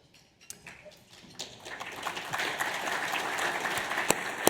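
Audience applause at an awards dinner builds gradually from a few scattered claps into sustained, dense clapping across a large room, with some louder individual claps standing out near the end.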